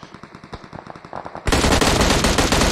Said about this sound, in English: a lot of gunfire from the M16